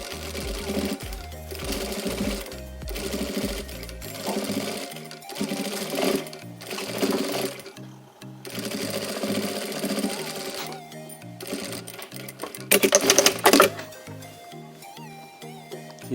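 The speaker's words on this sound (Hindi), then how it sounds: "यहाँ एक किनार की सिलाई लगा देंगे ऊपर से।" A sewing machine stitches the edge of a kurta in bursts, a close rhythmic mechanical whir broken by short stops. A sharper clatter near the end.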